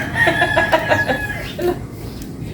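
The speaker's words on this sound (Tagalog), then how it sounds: "Marinig mo yung huni ng ibon, mga manok" Chickens cluck and a rooster calls in a short outdoor stretch, with several overlapping bird voices that are fairly close and lively.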